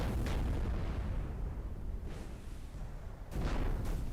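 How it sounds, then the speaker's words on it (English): Naval gunfire explosions on the German side in the Denmark Strait battle of Infernal Ocean boom out as a few deep, rumbling blasts over a constant low roar, two or three distinct impacts spread across the stretch. "The explosions on the German side seem to be very different sounding."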